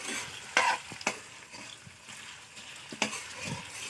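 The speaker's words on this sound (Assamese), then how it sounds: "পিঁয়াজ অলপ মই লাৰি দিওঁ" Onion stirred in hot oil in a pan: a few scraping strokes of a spoon, each with a short clatter, over a low steady sizzle, close by, with no talk.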